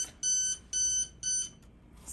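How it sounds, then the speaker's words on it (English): A phone alarm going off in a room, three evenly spaced bursts of high, bright beeping, each about a third of a second long, with no talk over them. "Sorry, guys, that's my alarm."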